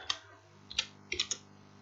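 Quick bursts of keystrokes on a computer keyboard while entering code for an Arduino RGB LED project in Tinkercad, a few close, crisp clicks spaced irregularly with no one speaking.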